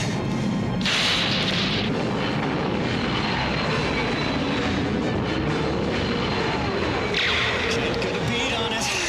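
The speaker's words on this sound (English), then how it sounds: "That accursed supersonic jet's following me!" A supersonic jet roars past in an animated battle scene, a loud, sustained broadband rush with sharp surges near the start and end, mixed with voices and effects.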